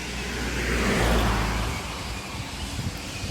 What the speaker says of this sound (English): people are just driving by, riding by on push bikes, taking no notice